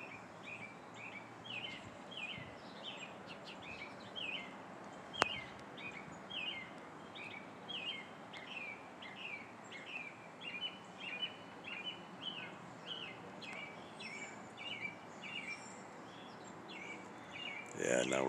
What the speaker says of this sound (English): now we're getting those evening sounds from the birds